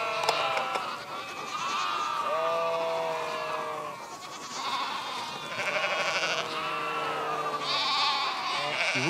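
A large flock of sheep bleats repeatedly, many overlapping calls near and farther off, with some voices in the background.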